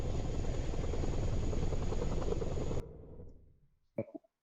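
Loud, rumbling aircraft engine noise in a PTFS flight game air show, steady and close for almost three seconds, then cutting off abruptly and fading, followed by a brief thump.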